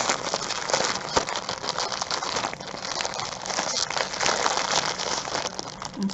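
A package is opened by hand, its wrapping crinkling and rustling in continuous close, fairly quiet bursts with small crackles, and no one speaks.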